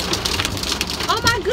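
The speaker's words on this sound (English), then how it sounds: "I know y'all hear this hail." Rain and hail pelt a car in a storm, a dense, loud, continuous patter on the body with a voice cutting in near the end.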